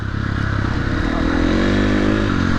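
A motorcycle on the move, its engine droning loudly and steadily with a throaty pulse and wind rush, heard from the rider's position.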